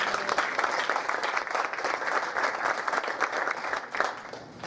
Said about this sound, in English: let's continue the applause for Dr. Anstine.